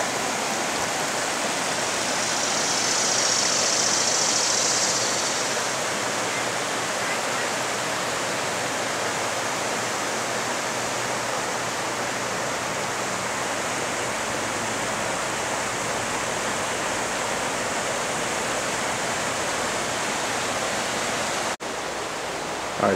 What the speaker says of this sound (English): I could just sit here for hours and listen to this water.